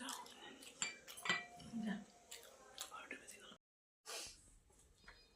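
Dinner plates and cutlery clink at a meal in West Sikkim, with sharp, irregular metallic taps and scrapes close by, a short silent gap, then more clatter.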